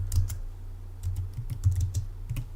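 Close computer keyboard typing while entering code, a brief run of quick, irregular key clicks at moderate loudness with no talk.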